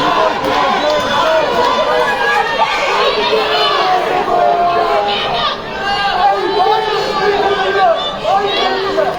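A live Muay Thai podcast crowd at COGA 87 cheers and shouts in a dense, excited wash of many voices, with chatter and whoops rising and falling throughout and a brief dip near the middle.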